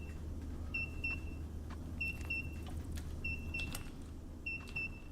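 A machine in the mining video game MineMogul beeps repeatedly in short paired tones at a steady rhythm, heard over a constant low engine-like hum with no talking.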